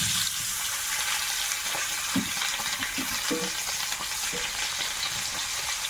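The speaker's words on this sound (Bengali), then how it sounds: "আলু ভাজি দিলাম আলুটা ভেজে নেব" Potatoes frying in a pan make a steady, dense sizzle throughout, with a few soft scrapes and stirring knocks breaking through now and then.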